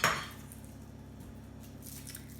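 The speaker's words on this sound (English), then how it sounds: "I'm going to chop this in half, bridge method, one hand on either side" A knife chops half an onion on a board for a lentil and quinoa soup: one crisp, close cut at the very start, then only a low, steady kitchen hum.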